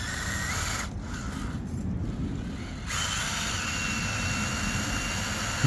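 A small 1/24-scale UDIRC RC crawler spins its wheels and digs into beach sand, giving a steady high-pitched motor whine with gritty churning that briefly dips then resumes, close and continuous with no talking.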